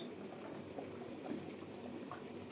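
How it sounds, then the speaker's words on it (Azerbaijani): A big pot of crushed tomatoes, part of a large batch prepared for winter, boils with a faint, steady bubbling and occasional soft pops, heard quietly and alone. "Yaxşı-yaxşı qaynayır."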